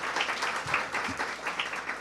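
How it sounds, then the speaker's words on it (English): Audience applause at a Samsung Solve for Tomorrow national winners event, a steady wash of many hands clapping throughout the two seconds, moderately loud in a large room, with faint voices mixed in. "Why don't we give Samsung a round of applause"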